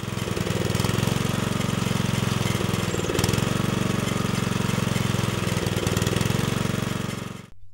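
A small engine driving a multi-purpose rotary tiller farm machine runs close and loud with a fast, steady chugging rhythm, then cuts off abruptly at the end.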